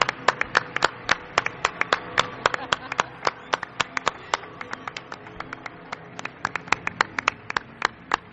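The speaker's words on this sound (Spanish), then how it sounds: "Quiero un aplauso para él." Steady audience applause at a live radio or stage show, a small crowd clapping with sharp, distinct claps in an irregular but continuous pattern, close and fairly loud throughout.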